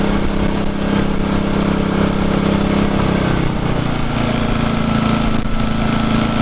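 A small Engel 2500W petrol generator engine idles loudly and steadily nearby, its uneven chugging settling into a lower, even putter after the eco throttle is switched off.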